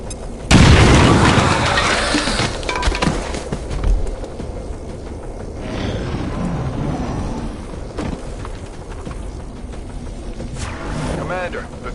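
A frag grenade goes off in XCOM 2 with a loud, close boom near the start, its rumble trailing off under busy battle noise and game sound effects, with voices talking over it.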